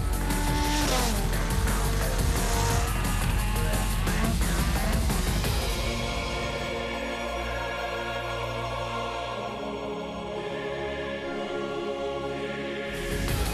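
A Caterham track car at speed with a loud, harsh engine roar that rises and shifts through gears, shown as strong stacked harmonics. The note changes pitch partway through and stays continuous and close with no talk.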